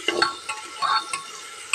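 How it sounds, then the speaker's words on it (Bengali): Onions fry and sizzle in a pressure cooker while being stirred, with a steady hiss broken by short scraping strokes of a spoon against the pot. "দেখো পেঁয়াজটা অনেকটাই ভাজা ভাজা হয়েছে"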